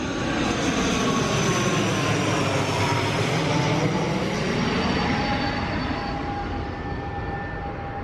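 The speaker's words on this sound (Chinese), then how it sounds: "很多飞机耶！" Low-flying airplanes pass overhead near a garden in Taipei, a loud, steady jet roar that fills the whole stretch with a slowly shifting whine, fading only slightly near the end, with no talking.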